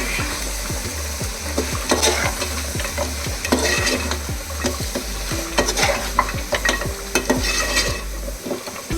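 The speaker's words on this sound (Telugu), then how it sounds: "మొత్తం మిక్స్ అయ్యే విధంగా ఒకసారి కలుపుకోవాలి." A spoon stirs about three tablespoons of chili powder into goat trotter curry in a frying pan, making loud, close, repeated scraping strokes over a gentle sizzle and a steady low hum.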